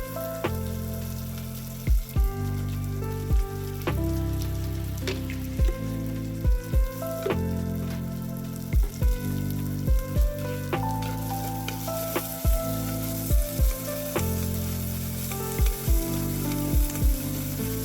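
Onions sauté with salt in a pan for a Kerala fish curry, with a constant crackling sizzle cut by regular sharp spoon taps and scrapes against the pan, close and with no talk.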